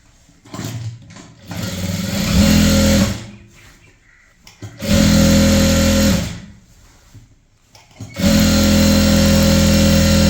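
Sewing machine stitching a maxi dress in three loud bursts of fast running stitches, separated by short pauses with quieter handling noise.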